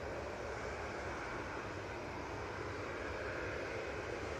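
Pegasus Airlines A321neo jet coming in to land at Manchester Airport, a steady distant broadband engine roar holding evenly throughout, with a brief sharp click right at the end.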